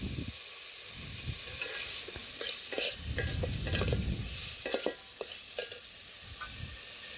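Spice paste for a vegetarian khichuri being stirred and fried in oil, a soft sizzle under repeated scraping and clattering of a spoon against the pot, irregular and close.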